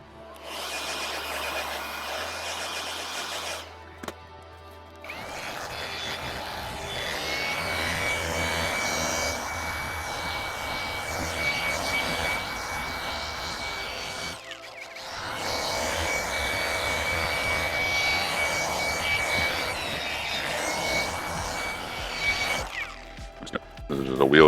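Air blower drying water off a freshly rinsed car after a Turtle Wax Pure Bead application, a steady broadband rushing hiss that runs in two long sustained stretches separated by a brief pause.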